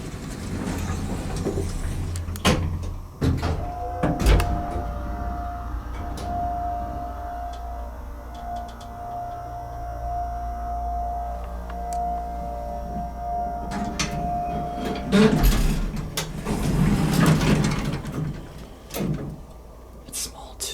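A vintage Monarch hydraulic elevator in the York Building in Raleigh, NC, hums steadily through a ride, with a sustained motor tone. Door clunks come near the start and end. People talk quietly over it.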